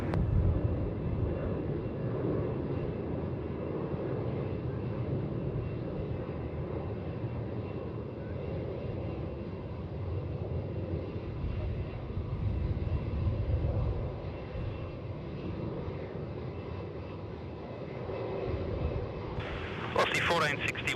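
A Boeing 787 jet airliner departs Melbourne Airport, its engines a steady low rumbling roar heard from a distance for the whole stretch, under air traffic control radio talk.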